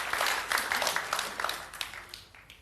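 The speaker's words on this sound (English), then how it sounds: "I'll clap for her too." Applause in honor of Patricia Overberg, a woman being celebrated at an activism conference, filling the room as a steady wash of clapping that slowly thins out, with a few sharper individual claps near the end.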